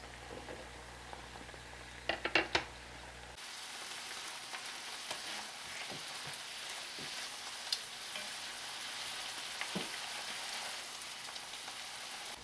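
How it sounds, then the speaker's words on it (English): Mushrooms and pheasant meat sizzle and fry in a pan on medium-high heat, a steady hiss with occasional stirring clatter and small pops near the start. "now you can go ahead and add your mushrooms"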